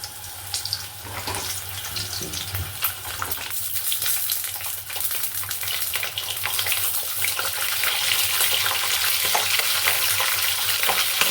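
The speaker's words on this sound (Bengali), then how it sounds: "তার কড়াইতে তেল দিয়ে দিয়েছি, তেল গরম হয়ে গেছে, দিয়ে দেবো পটল।" Steady crackling sizzle of pointed gourd frying in hot oil in a wok, continuous and close, growing slightly louder toward the end, with no voices.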